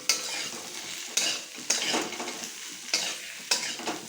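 Shukto vegetables with a spoon of sugar are stirred as they fry in a pan for the Bengali dish, with a steady sizzle broken by about six sharp scraping strokes of a spatula against the pan.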